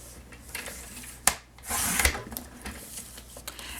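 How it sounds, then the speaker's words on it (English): A paper trimmer slicing through card stock: a sharp knock, then a close, scraping rasp as the blade slides along the edge, followed by quiet handling. "trim off first one of the long edges so that our card is 5 1/4 inches wide"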